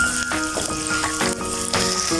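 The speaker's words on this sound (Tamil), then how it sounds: "உருளைக்கிழங்கு வெங்காயம் எல்லாம் நல்லா பொரிஞ்சிட்டுது" Potatoes and onions fry in oil in a pan for a village-style prawn curry, giving a close, steady sizzle with light rattling bursts over its short length.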